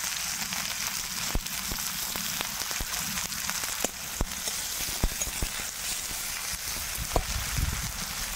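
Dried red chillies crackle and sizzle quietly in hot mustard oil in a wok, a steady, fine frying hiss broken by scattered sharp pops.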